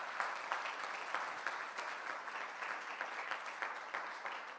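Church congregation claps together during a service, a steady, fairly soft wash of many hands with no talking over it.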